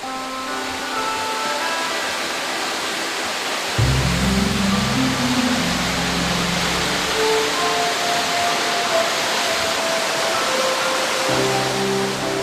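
Rain-fed Eongtto Waterfall on Jeju pours between rocky cliffs and warm-temperate forest, a steady broadband rushing roar of falling water that holds constant throughout, with no voices.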